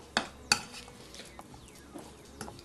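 Faisselle cheese being stirred with salt and white pepper in a bowl, a couple of sharp clinks of a utensil against the dish at the start, then soft scraping and mixing sounds, close and fairly quiet with no talk.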